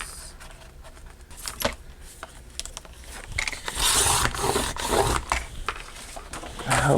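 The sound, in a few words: cutting paper sheets in half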